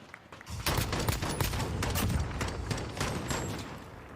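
Rapid gunfire from the video game Call of Duty Modern Warfare: dense, overlapping bursts of shots fired continuously for about four seconds, loud and sustained with no speech.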